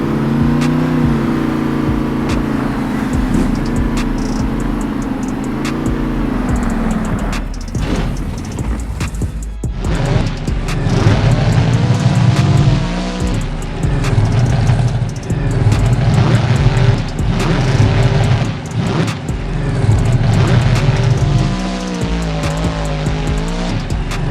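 Monster truck engines roar and rev in the Monster Truck Destruction video game, loud and close, with tires squealing and skidding, engine pitch rising and falling repeatedly as the trucks accelerate, with a short lull before the revving resumes.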